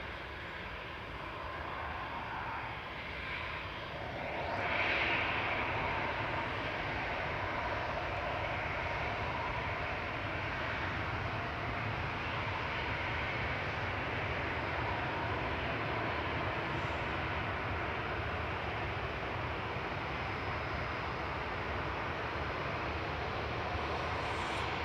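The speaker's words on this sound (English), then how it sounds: "Gulf Air to Bahrain, A9C-FG operating flight 4, 787-9 in the beautiful Gulf Air retro livery" A Gulf Air Boeing 787-9 airliner at Manchester Airport gives a steady, broad engine roar that holds at an even level throughout, fairly distant, with no talking.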